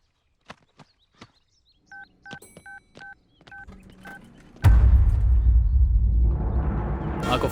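Telephone keypad tones beeping in a quick sequence of short, evenly spaced presses, clear and close, followed by a sudden rush of louder broadband noise.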